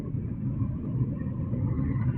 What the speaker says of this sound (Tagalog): Ang lalaki ng mga truck.